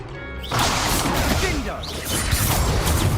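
A Confringo fire spell blast in Hogwarts Legacy bursts out suddenly after a short lead-in, followed by a dense, sustained crackling roar of explosive impacts and combat effects that stays loud to the end.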